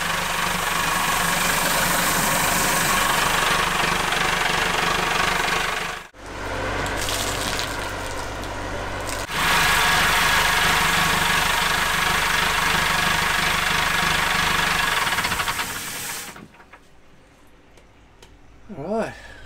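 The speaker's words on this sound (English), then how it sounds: "I just wanted to give the engine a run." An inboard boat engine runs steadily with raw water flowing into the sea chest, making a loud, even knocking idle with a brief break in the middle before it fades out near the end.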